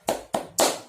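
Three sharp group claps from a classroom doing the tepuk semangat clapping chant, evenly spaced, close and loud, with no voices over them.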